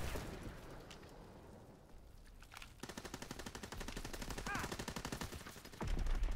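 Video game gunfire rings out as a rapid machine-gun stream of evenly spaced shots, starting after a quieter opening and growing louder toward the end, with a deep boom near the close.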